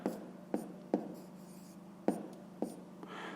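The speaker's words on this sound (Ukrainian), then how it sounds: "Записуємо відповідь, пишемо відповідь." Pen strokes on paper as a math exercise answer is written out by hand, a handful of quick, sharp scratches in an uneven rhythm, close and quiet against a steady low hum.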